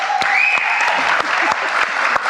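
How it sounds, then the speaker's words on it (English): An audience at a live stream event applauds a guest: dense, continuous clapping close by, with a few sharp louder claps standing out and a faint whistle-like tone over it, no clear speech. "So ladies and gentlemen, a big round of applause for my friend next to us."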